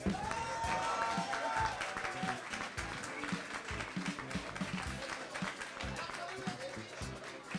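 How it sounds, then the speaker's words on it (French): Audience at a French talent session breaks into steady, dense applause that carries on throughout, moderately distant, with a brief voice over the start. "demande encore un tonnerre d'applaudissements, s'il vous plaît"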